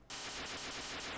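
Synthesized fireworks burst in the Atari arcade game Tempest, a loud, harsh stream of crackling electronic noise with rapid, repeating pulses that starts abruptly and continues without pause.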